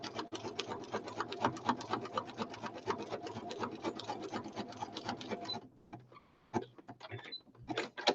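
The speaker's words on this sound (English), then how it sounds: "Make sure you get that zigzag stitch because that'll be your hinge" A sewing machine stitching a zigzag: a fast, steady mechanical rattle runs close and clear for several seconds, then breaks off into a few scattered clicks and knocks.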